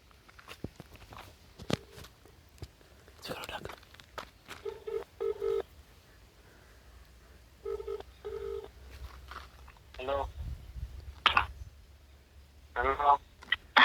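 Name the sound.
phone call being dialed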